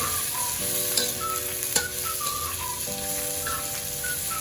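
Three garlic cloves sizzle and fry in a hot pan with chicken and oyster sauce, a steady close crackle with stirring scrapes throughout and no talk.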